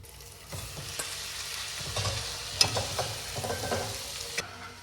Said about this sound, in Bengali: ভালো করে নাড়া হয়ে গেছে ম্যাগি